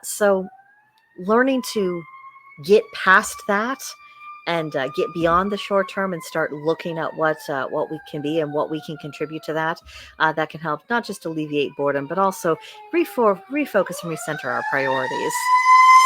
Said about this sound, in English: Apologies for the siren.